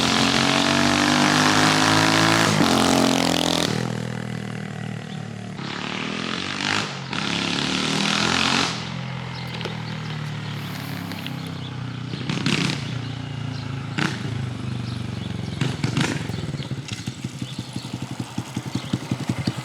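A Honda Grom motorcycle, a 2022 model, rides around the block, its engine loud and close at first, then dropping away and returning in swelling passes with shifting pitch.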